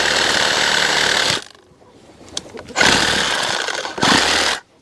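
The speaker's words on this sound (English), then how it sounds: "Hopefully my Sawzall will do this." A Sawzall reciprocating saw cuts through material in two loud, dense bursts of steady buzzing, about 1.4 and 2 seconds long, separated by a quieter pause with faint rattling.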